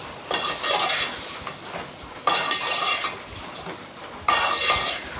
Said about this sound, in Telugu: ఇవన్నీ వేసుకున్నాక ఒకసారి కలుపుకొని మూత పెట్టుకోవాలి